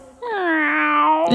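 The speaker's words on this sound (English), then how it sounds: "No, Bartolito, that's a cat." A single drawn-out meow, clear and steady, rising slightly before cutting off, heard alone against quiet.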